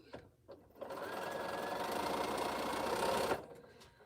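A sewing machine stitches quilt pieces, starting after a few soft clicks and then running in one steady, close mechanical whir for about two and a half seconds before stopping.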